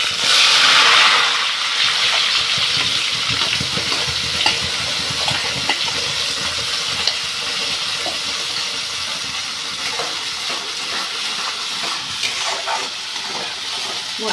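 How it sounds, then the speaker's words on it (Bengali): Spices hit hot oil in a pan for a lote (Bombay duck) fish curry, a loud burst of sizzling at first that settles into a continuous close hiss and crackle. "এবার আমি মশলাগুলো ছেড়ে দেবো"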